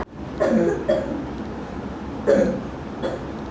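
Someone with a cold coughs in two close pairs of sharp, raspy bursts, heard near and clear against a quiet room.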